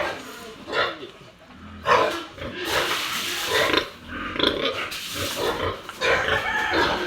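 Pet pigs grunt and squeal at feeding time, close by and fairly loud, in bursts over several seconds with some rustling and background movement.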